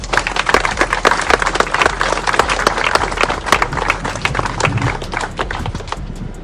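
An audience at a civic gathering with speeches claps in sustained, dense applause that carries steadily for several seconds and eases slightly toward the end.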